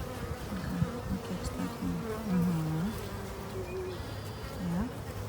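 Honeybees buzzing inside an open beehive, a close, steady droning hum with individual bees whining past, no speech.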